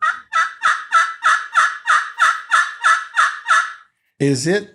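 A custom turkey friction call played with a striker, scratched out in eleven quick, evenly spaced yelps, loud and close, then a short pause and one raspier, lower cluck-like burst.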